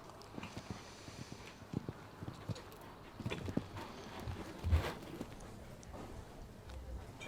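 Show jumping horse at the Charles Stanley British Masters in 2013, hooves clip-clopping and thudding in a steady rhythm across the arena, with one heavier landing thump midway and faint crowd and commentary behind.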